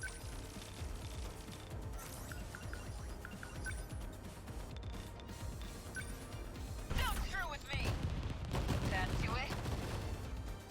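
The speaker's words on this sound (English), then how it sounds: "a sentry gun, I think" Sentry gun firing in the video game 13 Sentinels: Aegis Rim, dense continuous gunfire and crashing impacts over game music and effects, growing louder and busier in the last few seconds.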